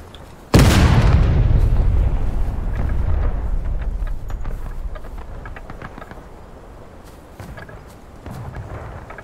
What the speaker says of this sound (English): Everyone in the battery, fire shell shot.